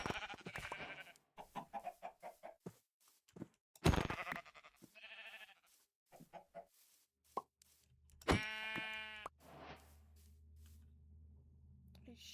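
Sheep bleating inside a modded Minecraft survival world, one clear harmonic bleat standing out among scattered blocky game effects and clicks, followed by a low ambient hum.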